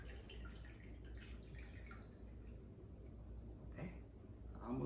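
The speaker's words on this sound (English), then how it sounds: "Then you're gonna pour it in your glass like this here." A hot sauce cocktail is poured into a glass, a faint, quiet trickle of liquid that splashes briefly near the end over low background hum.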